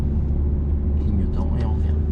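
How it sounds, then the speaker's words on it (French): A car accelerates in second gear during a driving lesson, its engine rumbling steadily and loud inside the cabin while a voice speaks partway through. "On met la 2. Et on accélère."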